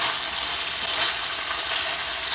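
Chicken pieces fry in a pan for kung pao, browning in oil with a steady, even sizzle up close and no one speaking.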